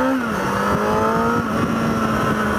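A motorcycle rides along a trail, its engine humming steadily and loud, with pitch dipping and settling as the rider rolls along.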